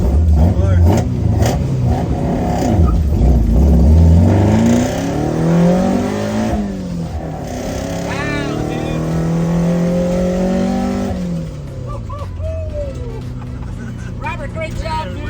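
Toyota AE86 with a 20-valve engine on a test drive, revving up and down repeatedly in rising and falling surges from inside the car, loud and near, with people talking over it.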